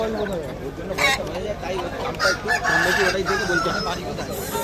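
Roosters crow repeatedly at a large poultry and duck market in the Sundarbans, with hens clucking amid a busy, noisy crowd and people talking nearby.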